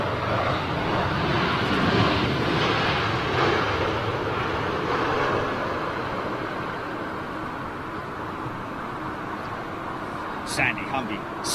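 An airliner arrives at London Heathrow Airport on a windy day, its jet engines a broad, steady roar that slowly fades as it passes, mixed with gusty wind buffeting the microphone.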